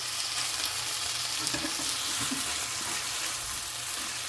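Hash browns fry in a pan with a steady, even sizzle that hisses continuously at moderate volume, close by and with no speech over it.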